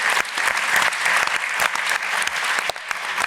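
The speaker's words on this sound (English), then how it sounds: "I'll give her a round of applause." Dense, steady clapping from an audience at an Edinburgh TV Festival live pitch session fills the room without pause, with no voices on top.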